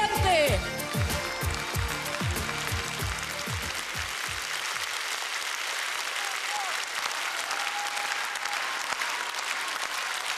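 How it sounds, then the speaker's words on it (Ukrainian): Concert audience applause in the Kremlin at a 2007 anniversary show, a dense roar of clapping from a large crowd that fills the clip, loud at first and continuing steadily, with a voice briefly audible over it early on. "ваши аплодисменты!"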